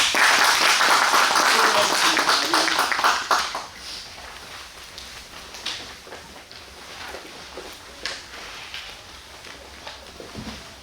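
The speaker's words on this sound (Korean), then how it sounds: "큰 박수 부탁드립니다" Loud audience applause at a primary school centennial forum, dense clapping that fades after a few seconds into scattered claps, shuffling and room noise.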